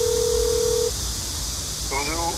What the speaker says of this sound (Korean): 바로 이종걸 의원한테 전화를 한번 해보도록 하겠습니다.